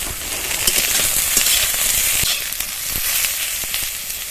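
Eggplant pieces fry in hot oil in a pan, producing a loud, continuous hissing sizzle with scattered crackles and pops throughout, close and with no voices.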